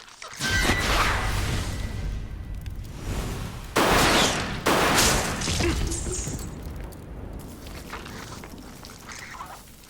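Gunfire and combat in Resident Evil 0, loud broadband shots and crashing impacts, with a heavy burst of blasts around the middle that then trails off into quieter rumbling.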